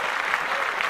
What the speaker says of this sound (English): I gotta clap that up.